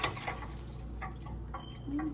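Tap water runs into a bowl of greens being soaked for cleaning, a soft continuous splashing and gurgle with a few brief clinks, fairly close and moderate in level.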